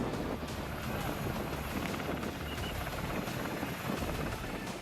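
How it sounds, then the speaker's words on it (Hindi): Helicopters fly along a seashore during a military air-drop exercise, a steady, dense rotor roar and rumble holding evenly throughout with wind noise and no speech. "समंदर किनारे कई हेलीकॉप्टर उड़ रहे हैं"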